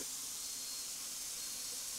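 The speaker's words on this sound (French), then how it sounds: "On simule une fuite d'eau, le robinet reste ouvert et pour une raison ou pour une autre, ça va déborder." Water streams steadily from an open kitchen tap left running to simulate a leak, a constant close hiss with no voices.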